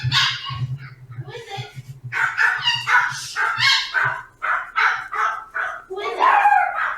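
Dogs bark repeatedly in short, sharp, close bursts, several yaps in quick succession, mixed with a person speaking and a low hum early on.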